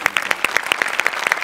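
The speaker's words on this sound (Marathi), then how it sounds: "एकदा जोरदार टाळ्या ह्यासाठी." A stage audience claps at a Marathi TV comedy show, Maharashtrachi Hasyajatra, with quick, evenly spaced, crisp claps that sound fairly close, a short burst with no talk over it.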